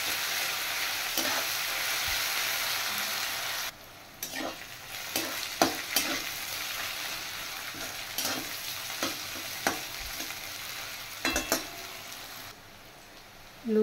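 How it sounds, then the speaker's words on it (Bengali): Lotus stolons (loti) and onions frying together in a pan, a steady sizzle broken by repeated sharp scrapes and clicks of stirring, loud and close, with no voices. "এবার লতি আর পেঁয়াজ একসাথে ফ্রাই করে নেব।"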